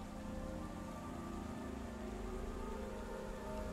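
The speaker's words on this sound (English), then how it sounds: "so the rain starts about here" Steady rain falls in the horror mystery game Lucifer Within Us, a dense, even hiss that runs unbroken and fairly soft, with no voices over it.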